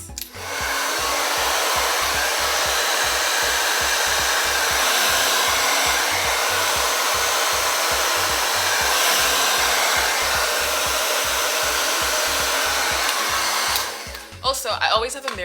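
A hair dryer blow-drying 4c hair at home, roaring loud and close in one continuous blast with a rapid fluttering pulse as it is moved through the hair, then switching off near the end.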